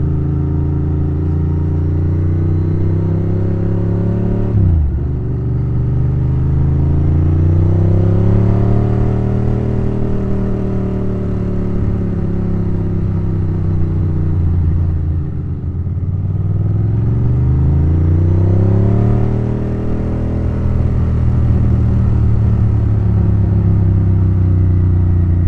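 A Ducati Monster S4 rides along a gravelly road. Its engine drones loudly and close throughout, rising and falling in pitch as it slows twice and then accelerates again, with no voice heard over it.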